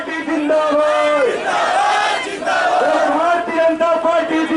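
A political rally crowd at a BJP Jan Ashirwad Yatra gathering at the old bus stand in Nagda loudly chanting 'Bharat Mata ki Jai' in two strong, drawn-out shouted waves, many voices together close by.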